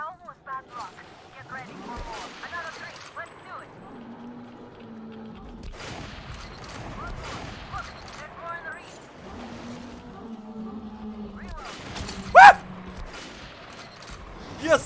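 Gunfire in the video game Metro Last Light Redux, scattered shots and bursts through a quiet scene with one loud spike near the end, while someone talks over it.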